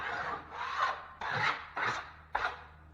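A stick presses fiberglass drywall tape down onto a wall patch in five quick, close rasping strokes, each a short scrape separated by brief pauses.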